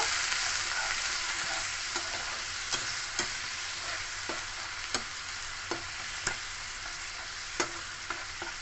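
Water poured into a hot tempering for khaman dhokla bubbles and hisses in a steady, fairly faint simmer, punctuated by sharp spoon taps against the pan.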